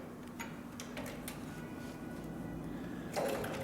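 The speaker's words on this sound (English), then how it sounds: "So I'm going to go ahead and insert this into the machine and we'll start sewing." A Cowboy CB3200 heavy-duty leather sewing machine stitches 8 to 10 ounce tooling leather, giving a faint, steady, slow-paced mechanical ticking and whirring at controlled speed.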